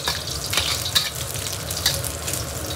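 Pork fat rendering and sizzling in a hot wok during home cooking, a steady close crackle with brief stirring scrapes and louder pops, no voices.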